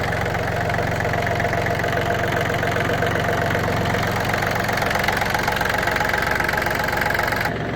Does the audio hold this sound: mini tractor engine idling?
yes